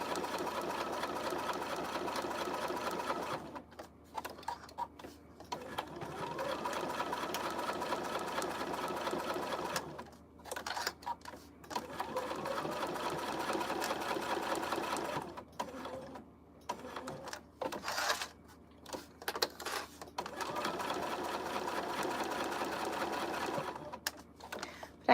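A sewing machine back-stitches a knotted headband in close, rapid mechanical bursts that stop and start in short runs separated by brief pauses.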